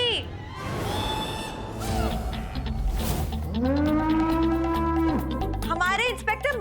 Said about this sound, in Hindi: ये भैंसा यहाँ कैसा?